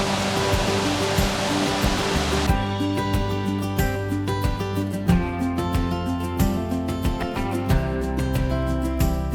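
Water rushing through an open dam gate along the Blue Ridge Parkway, a loud, continuous roar of gushing water throughout. A steady hum and low tones sit underneath, and no one speaks.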